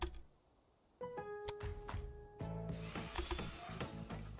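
A DeWalt 20-volt max brushless cordless drill whirs up in a store advert, the motor rising in pitch and running steadily for a few seconds after brief clicks and taps.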